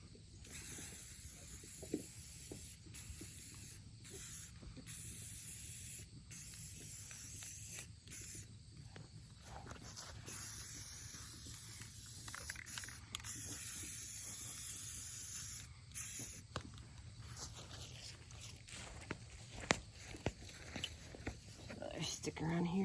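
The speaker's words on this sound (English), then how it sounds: "so I'm gonna have to respray on that side" Rust-Oleum Ultra Matte black spray paint hissing from a can onto small thrifted pieces, long steady spraying with short breaks and a faint voice underneath.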